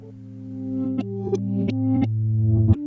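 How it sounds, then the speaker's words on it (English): A reversed audio sample: sustained tones swell up gradually, with sharp snaps at the end of each note instead of the start, giving a smeared, backward-sounding melodic texture. "the second thing you can do is reverse the sample"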